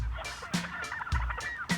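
Wild turkeys gobbling in repeated rattling bursts, several calls overlapping at moderate distance against an outdoor background.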